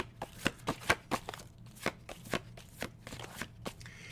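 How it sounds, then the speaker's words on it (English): Oracle cards being shuffled by hand in a series of quick, crisp riffling bursts with short pauses between them, close and fairly quiet. "I shuffle through the cards, and whatever card falls out"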